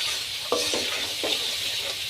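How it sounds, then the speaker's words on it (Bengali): Salt being stir-fried into spices in a pan for a village-style duck and potato curry, a steady sizzle broken by several short scraping stirs, close and fairly loud, with no voices. "এখন আমি লবণগুলো মশলার সাথে ভালোভাবে কষে নিচ্ছি।"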